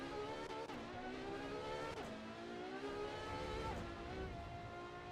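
A limited-edition V12 Ferrari Daytona SP3 screams around Laguna Seca in the Assetto Corsa EVO racing game, its loud engine climbing through the revs and dropping on each of several upshifts in steady succession.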